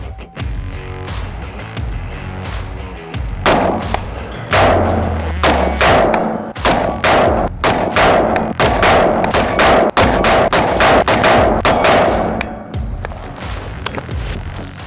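An AR-15 rifle chambered in 5.56 fires a rapid run of loud, sharp reports, many closely spaced shots in a row, with no talk over them.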